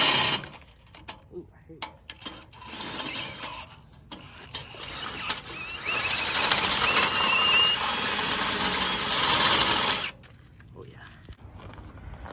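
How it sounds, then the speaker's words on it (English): A power drill bores pilot holes for a new trailer tongue, whirring in a few short bursts before one long, loud, steady run, with a voice speaking briefly near the start. "So we're pre-drilling holes for the new tongue there."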